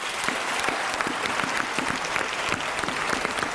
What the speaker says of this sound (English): He doesn't really want to clap, but he's afraid to be seen not clapping.